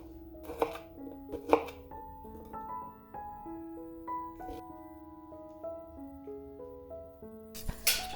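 A knife cuts frozen beef meatballs in half on a board, giving a few sharp, isolated chops and clicks spaced several seconds apart, close and crisp over soft background music.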